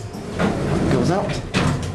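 An Otis Series M2 traction elevator door at the Hilton Anatole in Dallas slides shut quickly, a smooth whooshing roll with a soft thud at the end, heard close up while someone talks over it.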